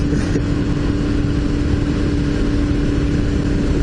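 A motorcycle engine lugging in sixth gear at low RPM and low speed, a steady dense drone with heavy wind rush, loud and unbroken throughout.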